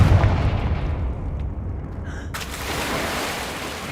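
Confringo fire blast spell cast in Hogwarts Legacy, a booming burst that erupts at the start with heavy low rumble, then a second sharp crack midway trailing into a sustained crackling roar, loud with no talk.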